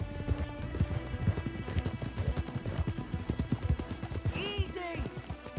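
Hooves clip-clop in a quick steady rhythm close by in Red Dead Redemption 2, with a horse's whinny near the end and a voice speaking over it.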